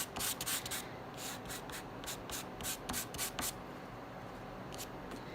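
Chalk is rubbed across a surface to shade the neck of a drawn face, making quiet, scratchy strokes in quick bursts that stop near the end.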